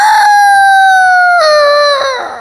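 A performer on a comedy stage imitates a rooster crowing with one loud, sustained, wavering cock-a-doodle-doo call, close and clear, ending in a falling tail.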